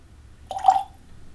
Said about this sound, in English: I got a container of Brita water here, and we're just going to pour just